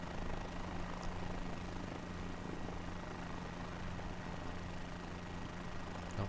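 Cabri G2 helicopter approaching to land on runway 13 in Flight Simulator 2020, a steady droning rotor and engine hum that stays even and continuous throughout, with no talk over it.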